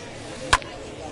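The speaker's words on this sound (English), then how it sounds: "Now a ball hit foul off to the right and up into the crowd." A baseball bat striking a foul ball in the video game MLB 21, a single sharp crack in the middle of the clip over steady stadium ambience and faint commentary.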